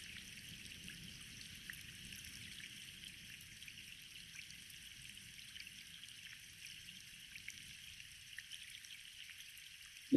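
Steady rain falls on trees and plants in a soft, continuous wash of dripping and pattering, with an even, gentle hiss throughout and no voices.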